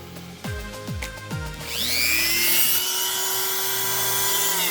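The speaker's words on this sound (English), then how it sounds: "gonna try and get some more sanding then" A few quick clunks and a descending whine lead into a high-pitched electric power sander running steadily and loudly at full speed, sanding a custom Hot Wheels toy car.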